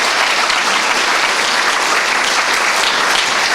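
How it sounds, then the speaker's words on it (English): A conference crowd applauds the event staff and volunteer guides, loud continuous clapping from many people filling the whole span without a break. "Can we give them all a big round of applause there for all the work that they've done?"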